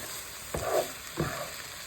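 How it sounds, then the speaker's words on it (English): Soft, steady frying sizzle from a pan of shrimp and cauliflower rice, with two brief bursts of louder crackling as food is stirred or added. "you can hear it cooking"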